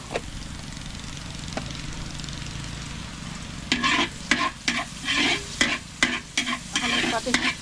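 Ginger and pepper sautéing in a pan for chicken tinola, a quiet background hiss at first, then loud, close rhythmic stirring scrapes over a steady sizzle from about halfway on, no talk.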